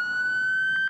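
An ambulance siren sounds near hospitals on a busy street, a loud steady wail holding one pitch at close range, with a sudden change in the tone right at the end.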